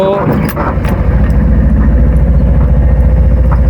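A motorcycle overtakes a car from behind during a driving lesson, its engine a steady, loud, close drone layered over the car's own engine and road noise.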